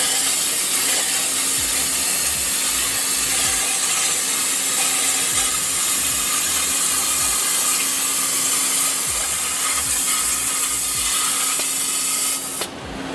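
A waterjet cutting machine powered by an electric hydraulic pump gives a steady, loud broadband hiss and spray with a constant low hum beneath and faint rhythmic pulsing, running without pause until it drops off abruptly near the end.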